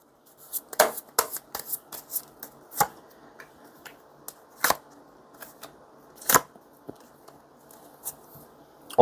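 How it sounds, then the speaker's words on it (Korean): Tarot cards are shuffled and drawn in crisp, irregular bursts of riffling and snapping card slaps, close and clear, with soft rustling between them and no talk. "전반적인 2번님의 상황을 먼저 카드로 뽑아볼게요"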